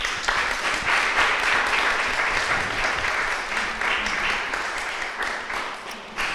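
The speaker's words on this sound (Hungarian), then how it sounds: "Tapsoljuk meg őket!" An audience at a poetry recitation semifinal in Hungary applauds loudly and steadily, the dense clapping holding for several seconds before easing slightly toward the end.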